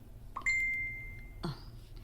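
A cellphone notification chime sounds indoors: a single bright, sustained ding that rings and fades, then a second softer tone follows about a second later, with no talk over it.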